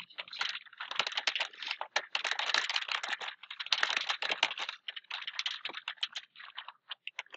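Steady, close clatter of keys on a computer keyboard, rapid irregular taps in bursts with brief pauses, and no voices over it.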